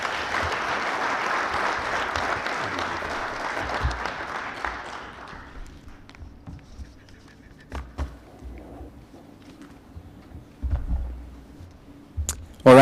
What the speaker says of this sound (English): a round of applause for Dr. Amoth